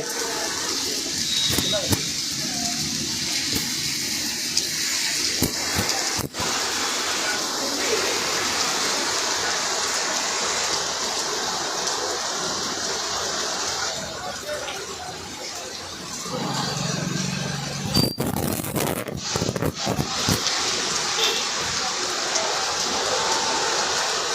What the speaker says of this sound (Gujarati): ભારે પવનની સાથે આ વરસાદ વરસી રહ્યો છે